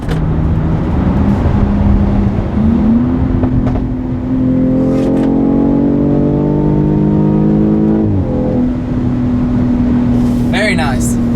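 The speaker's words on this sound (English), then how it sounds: "The car has a really good acceleration." A 2018 BMW X3 M40i accelerates hard from inside the cabin, engine note rising steadily in pitch through the gears with a brief shift drop, loud and continuous.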